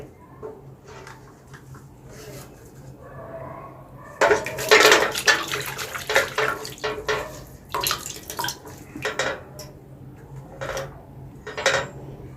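An aquarium filter bottle is rinsed by hand under water, with irregular plastic knocks, clatters and splashing over a low steady hum, growing busier and louder halfway through.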